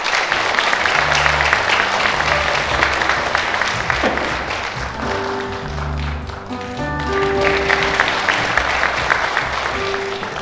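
Applause and light tapping from an outdoor crowd at a joint WT-ITF taekwondo demonstration at Seoul City Hall, sustained and fairly steady for the whole stretch, with scattered brief tones and murmuring underneath.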